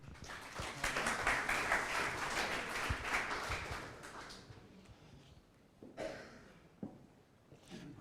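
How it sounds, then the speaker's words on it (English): Audience applause at a hackathon launch workshop, a dense burst of clapping for about four seconds that fades out, followed by a few scattered thuds and knocks in a quieter room. "Please, a round of applause for Ed."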